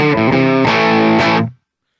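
Distorted electric guitar through a HeadRush unit using an impulse response cabinet, loud saturated chords struck in a short rhythmic burst before cutting off abruptly into silence.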